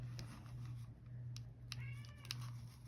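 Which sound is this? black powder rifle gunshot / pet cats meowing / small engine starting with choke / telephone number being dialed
pet cats meowing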